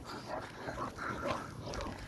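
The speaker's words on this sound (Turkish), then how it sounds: "Bak köpekler orada şu an." Dogs make brief, muffled growls and snuffling sounds, faint and close together, over a noisy background for about two seconds.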